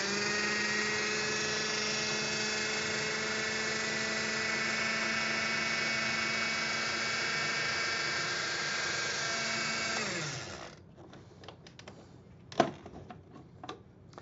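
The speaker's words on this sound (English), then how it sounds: "So that's why the food processor comes in handy." Food processor blending peppers into a smooth sauce for grilled salmon, a steady loud motor whir running continuously for about ten seconds before cutting off, followed by a few faint clicks and a sharp knock.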